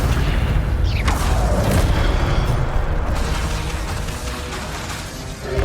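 Spell-casting effects from the video game Hogwarts Legacy, with fire, levitation and summoning spells: a dense, continuous stream of loud booming blasts, whooshes and crackling bursts layered over a deep rumbling bed.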